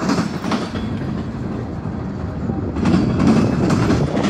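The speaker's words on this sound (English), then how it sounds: "Salt train. I don't know. Yeah, it's a long one" A long Norfolk Southern freight train, a salt train, rumbles past close by, its wheels clacking rhythmically over the rails in a steady, heavy roar.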